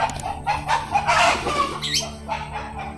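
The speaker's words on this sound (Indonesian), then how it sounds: "Bentar, ada ayam lewat" A chicken passing by clucks several times at close range, its calls rising above a busy background hum with brief higher squawks.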